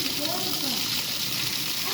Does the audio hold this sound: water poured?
yes